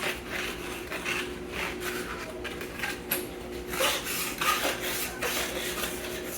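Kerrygold grass-fed butter rubbed over a warm loaf of freshly baked bread, giving a continuous soft rasping, smearing sound close to the microphone with small irregular swells and no talk.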